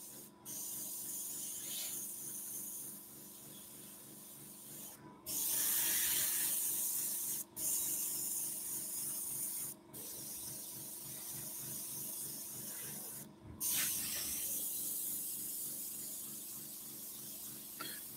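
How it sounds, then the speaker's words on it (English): An airbrush sprays paint onto a wooden bowl, giving a steady soft hiss that stops and restarts in short bursts, with quiet rubbing and handling noises between them and no talking. "Why I like airbrushing so much, because it's so quick."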